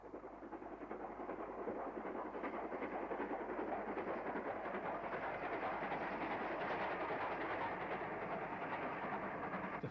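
A BR Standard Class 9F steam locomotive hauls a train over a road bridge on the Great Central line, a steady continuous rumble and rolling clatter of wagons that rises slightly and holds loud throughout, with no voices.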